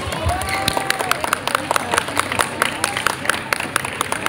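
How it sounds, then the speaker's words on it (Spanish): An audience applauds children at a dance show, filling the space with dense, crisp clapping that stays lively and even for a few seconds. "fuerte los aplausos para ellos"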